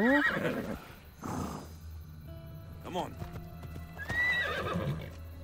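A horse in Assassin's Creed Odyssey clip-clops along at a trot with a few whinnies breaking in, moderately loud and close, while people speak over the game audio.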